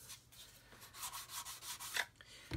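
Worn 400-grit sandpaper rubs over a plastic part in short, irregular strokes, each a soft, close, gritty hiss with brief pauses between, fairly quiet.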